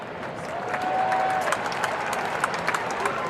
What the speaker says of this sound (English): Gets a round of applause from our near capacity crowd